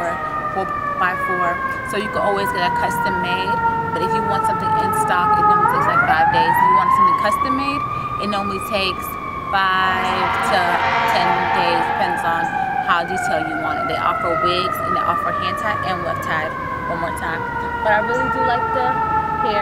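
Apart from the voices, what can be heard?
emergency vehicle sirens outdoors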